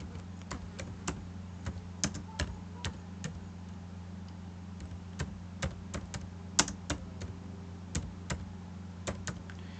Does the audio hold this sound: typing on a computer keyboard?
yes